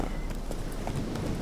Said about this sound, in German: Scheiß Pferd.